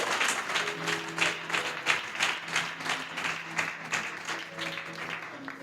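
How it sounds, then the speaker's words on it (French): A church congregation at an Easter celebration service claps and applauds for Jesus Christ, a sustained, rhythmic round of many hands filling the hall, with faint tones lingering underneath. "Est-ce que tu peux acclamer pour Jésus-Christ?"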